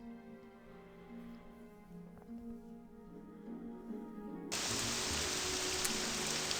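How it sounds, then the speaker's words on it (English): Rain in the video game The Elder Scrolls III: Morrowind, a steady hiss that starts faint under a low musical hum and then jumps abruptly to a loud, dense wash of noise. "And it's raining."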